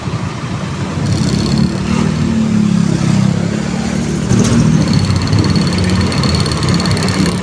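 A Honda Click 125 scooter with flyball trouble idles loud and close, a steady low engine drone with a rough, vibrating rattle running throughout.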